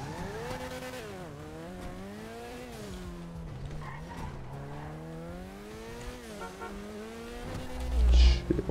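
An expensive stolen car in GTA drives and revs, its engine pitch rising and falling as it shifts, with tire squeal and a louder burst near the end.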